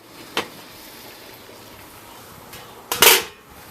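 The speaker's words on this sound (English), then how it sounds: "I'm going to take the lid off." A metal lid is lifted off a water-bath canning pot of plum jam and jelly jars, with a light clink early on, then a louder sharp clatter of metal on metal near the end, close by against a faint background hiss.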